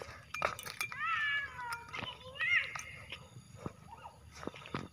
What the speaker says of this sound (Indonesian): Awas ada kucing guys.